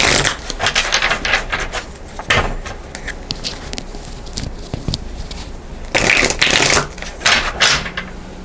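Tarot cards being shuffled during a Virgo reading, giving repeated bursts of papery riffling and slapping, loudest in a dense cluster near the end, with no talking.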